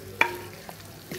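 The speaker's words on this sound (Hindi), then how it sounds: "हम इसको ऐसे चला लेंगे ताकि मसाले और टमाटर एक साथ हो जाए, कीमे के साथ मिल जाए।" Beef keema with spices and tomato is stirred in a pan, giving soft scraping strokes over a steady low sizzle, close and without talk.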